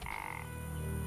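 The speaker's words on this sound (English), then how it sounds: "What are these? Oh, frogs!" Frogs croak in The Witcher game, a fairly quiet close-up chorus of buzzy pulsing calls over a faint ambient hum, with nobody talking.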